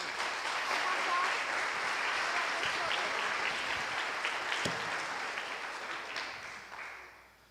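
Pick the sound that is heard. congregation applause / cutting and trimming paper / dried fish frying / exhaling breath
congregation applause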